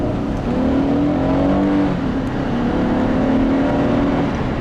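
A 2007 Honda Accord V6 Hybrid accelerates hard from inside the cabin, its engine note climbing steadily in pitch over a constant, loud road rumble.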